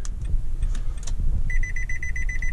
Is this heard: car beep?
yes